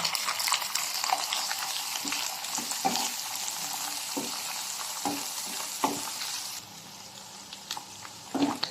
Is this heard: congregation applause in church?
no